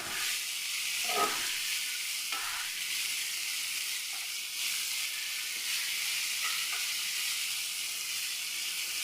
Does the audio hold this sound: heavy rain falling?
no